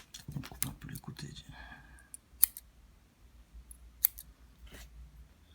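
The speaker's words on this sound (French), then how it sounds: "On coupe un peu les côtés" Scissors snip twice, crisp and close with a pause between cuts, trimming the sides while building a rebuildable vape coil; indistinct talk comes just before the cuts.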